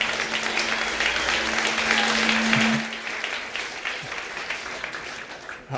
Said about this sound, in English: I'll let them know everybody applauded.